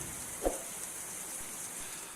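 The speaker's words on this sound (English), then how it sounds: "The heatwave ended abruptly with thunderstorms." Soft, steady rainfall in the New Forest after summer thunderstorms, a faint hiss with one brief nearby tap, heard alone without talk.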